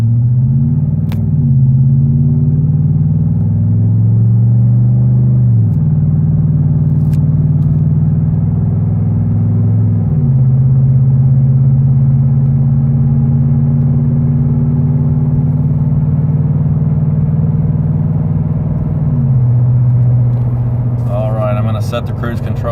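A Ford F-150 with a 5.0 V8 and aftermarket exhaust pulls away from a red light, giving a steady deep rumble that climbs through a few upshifts, close and continuous, with a voice talking over it.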